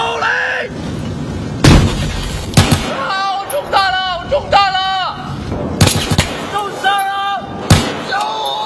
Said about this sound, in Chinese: 手雷出， 注意手雷